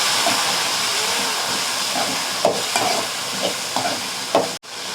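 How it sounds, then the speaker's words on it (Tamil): Tomatoes sauté in a pan for South Indian vatha kuzhambu, giving a steady close sizzle and hiss. Several soft stirring scrapes and taps of the spoon cut through it. "இது நல்லா தக்காளி வதக்கலாம் ஃப்ரெண்ட்ஸ்."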